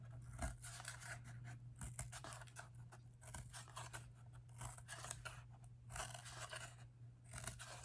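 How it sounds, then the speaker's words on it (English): Scissors snip repeatedly along lines in paper while a cardboard radial loom is made, giving a quiet, irregular series of crisp cuts with soft scraping between them over a faint steady hum; no voices. "you're going to use your scissors and you're just going to cut on those lines just a little bit"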